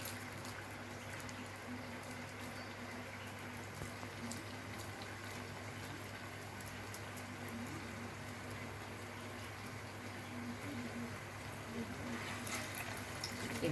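Yam vada patties frying in hot oil, a steady crackling sizzle that runs evenly and continuously without pause, close and moderately loud, with no voices.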